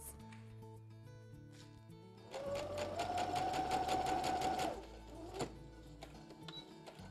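A sewing machine runs in one steady, loud burst of rapid stitching lasting a couple of seconds as it joins fabric ends for a packing cube. Quieter handling noises come before and after the burst.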